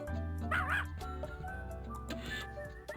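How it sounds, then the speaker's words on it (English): A dog in a zoo video game gives two short yipping barks over steady game music, one early and one near the end. "That's our dog, by the way."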